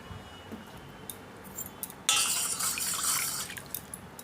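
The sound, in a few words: vinegar being poured into a bowl of water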